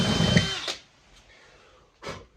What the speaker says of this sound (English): And I'll drill 2 holes here, straight down through the bridge plate.